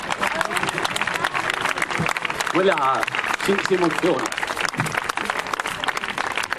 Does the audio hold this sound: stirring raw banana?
no